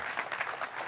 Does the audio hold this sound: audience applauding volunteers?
yes